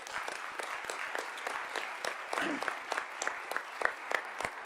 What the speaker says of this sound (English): If we can give Mr. Krug just one more round of applause, too